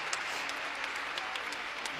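Steady applause from a large crowd honouring medal winners at a 2012 London Olympic test event ceremony, a dense even wash of clapping with a few sharper claps standing out, no talking heard.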